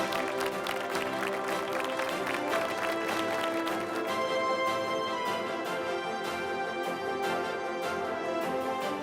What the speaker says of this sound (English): Come on, ladies and gentlemen, a big round of applause.